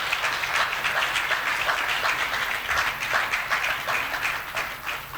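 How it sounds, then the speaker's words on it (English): Steady, dense audience applause filling a hall at a signing of a peace pact between the NPP and NDC presidential candidates in Ghana, continuous and fairly close throughout with no voices standing out. "you can go ahead and give a round of applause to Ghana."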